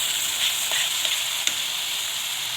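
A tempering for gongura chicken curry fries in a pan on the stove, a soft, even sizzle and hiss with a few faint clinks near the end, no one talking.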